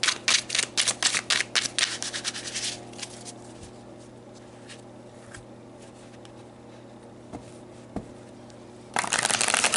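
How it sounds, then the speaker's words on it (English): Tarot cards are shuffled with a quick run of crisp riffles at the start, then soft shuffling and light handling, with another burst of brisk card noise at the end. "Let's pull some tarot cards and dig a bit deeper."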